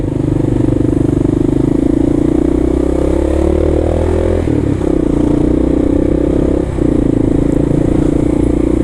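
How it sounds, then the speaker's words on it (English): A small two-stroke delivery scooter engine idles and buzzes loudly close by in New York City traffic, its pitch shifting slightly with throttle blips and a brief dip midway. "They do it all on 2-cycle scooters."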